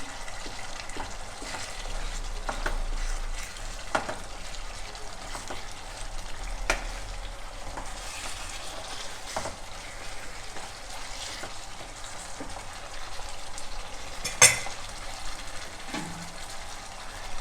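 Pork ribs frying in a pan as they are stirred, a soft continuous sizzle with intermittent scraping and knocking of the spatula, fairly quiet and close.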